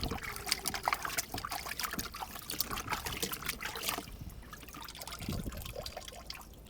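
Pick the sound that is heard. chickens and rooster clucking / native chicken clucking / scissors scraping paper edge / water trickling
water trickling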